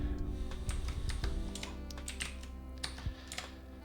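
Computer keyboard typing on a Linux machine, a quick run of close, light key clicks with short pauses, no voices.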